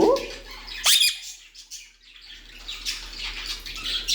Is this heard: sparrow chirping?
yes